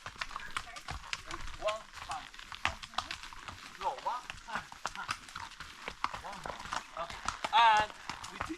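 Horse hooves clip-clop along a trail during horseback riding near Medellín, Colombia, with irregular, fairly close steps heard beneath intermittent talking.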